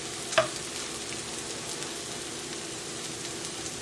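A pink salmon omelette fries in a hot pan on a stove, giving a steady soft sizzle like light rain, with one brief clink or pop near the start.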